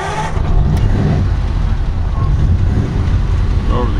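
A 1934 Ford Tudor sedan's flathead V8 rumbles loudly and steadily from start to finish, a dense low-end roar with no clear cranking break, recorded close up.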